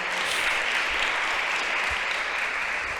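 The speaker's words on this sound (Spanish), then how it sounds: "Demos un aplauso al Señor." Continuous applause from a church congregation at a youth service fills the space evenly for about three seconds, a dense, steady wash of many hands with no speech.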